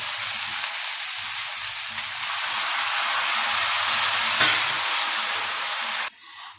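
Chopped raw banana and tomato fry together in a hot pan, giving a loud, steady sizzle with faint stirring scrapes that cuts off abruptly near the end.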